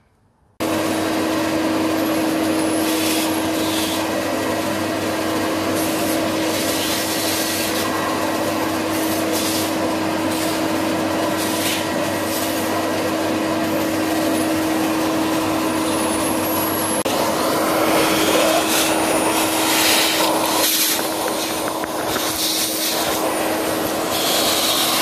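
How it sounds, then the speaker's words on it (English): A vacuum cleaner sucking up leaves from a car's window wiper cowl panel roars steadily at close range for the whole stretch, a loud constant whine with faint rattling shifts toward the end. "I'll just use the vacuum for that"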